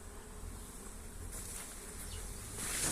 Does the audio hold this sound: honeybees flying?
yes